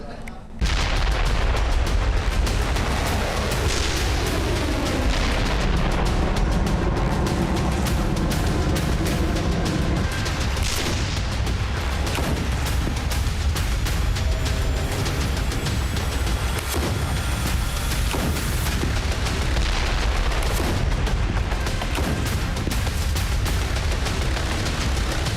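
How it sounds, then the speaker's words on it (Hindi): Artillery cannons fire and explosions boom in the Gaza war, a dense, continuous barrage of heavy blasts and crackling bursts that stays loud for the whole stretch, with no talking. "आग उगलती तोपें, दिन रात गरजते टैंक, फाइटर जेट से बरसते बम,"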